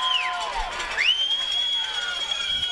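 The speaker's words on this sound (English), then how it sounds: "The crowd's pretty loud tonight" A loud crowd roars at a night high school football game between the FCA Knights and the Jefferson Broncos, with sustained rumbling noise and shrill whoops rising above it.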